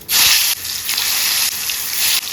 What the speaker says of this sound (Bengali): তেল গরম হয়ে গেছে, আমি এই আলুটা এখন ছেড়ে দেবো তেলে।